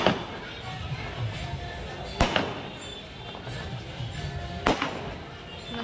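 Firecrackers bursting at a Holi celebration, two sharp distant bangs a couple of seconds apart over a busy background of crowd noise and music.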